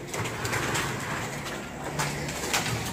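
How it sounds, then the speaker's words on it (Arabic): Small cage birds in a bird shop chirp and twitter continuously at close range, with bursts of calls overlapping throughout and no talking. "نخليكم مع هاد المليدر الزوين ديال هاد العصافير"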